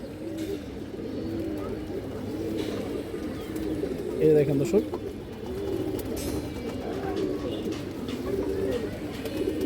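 Several pigeons of an old bloodline coo in repeated low throaty phrases, near and continuous, while someone speaks over them and a slightly louder burst of cooing rises midway.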